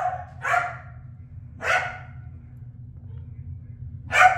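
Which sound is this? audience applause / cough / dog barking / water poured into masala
dog barking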